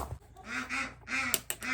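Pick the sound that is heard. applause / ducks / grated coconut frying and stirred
ducks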